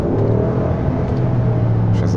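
A 2016 RAM 1500 BigHorn pickup with a 5.7 HEMI V8 and 313,000 km, its engine running loud and steady up close with a deep low rumble and slight revving swell, people talking over it.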